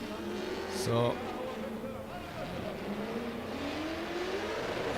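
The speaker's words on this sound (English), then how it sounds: "Victor coming through the centre section now, carrying a lot of speed in this 350Z" A Nissan 350Z with a V8 swap, run as a drift car, charges through a course at speed during qualifying at an Oman drift championship. Its engine note climbs and sweeps, with a brief sharp burst near the start, under a commentator's talk.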